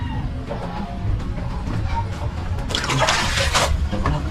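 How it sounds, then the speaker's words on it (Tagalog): Strong floodwater rushes close by a house in San Mateo, a steady loud churning roar that swells toward the end. "Lakas ng agos guys, oh."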